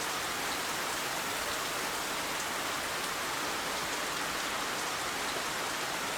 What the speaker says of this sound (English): First I got lost, and then it started to rain.